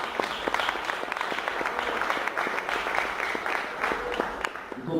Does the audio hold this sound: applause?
yes